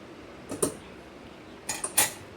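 A ladle scrapes and knocks against a pot of sambar while stirring, giving two short bursts of metallic clinks close by with quiet pauses between them.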